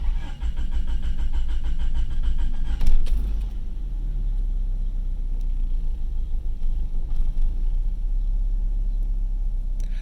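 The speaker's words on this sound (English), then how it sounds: "So let me start it and just not give it gas, and let's listen to what happens." A 1992 Honda Accord Wagon engine cranks and catches with a brief loud burst, then settles into a steady, slightly uneven low rumbling idle without throttle.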